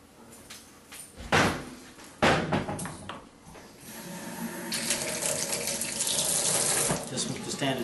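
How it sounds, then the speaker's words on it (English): A couple of sharp knocks, then a faucet opens after its seats and springs are replaced, and water runs steadily and loudly into a sink, a continuous rushing stream. "Turn the water back on."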